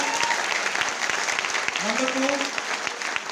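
Audience applause at a seminar in Agra, a dense steady patter of many hands with a voice speaking over it.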